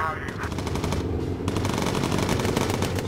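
Rapid machine-gun bursts from a bomber's gunner in the World War II video game Bomber Crew, loud, dense and continuous, with a brief break near the middle before firing resumes.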